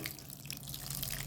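Water poured over grated coconut, salt and finger millet flour for kurakkan roti, a brief, faint, steady trickle that lasts about a second.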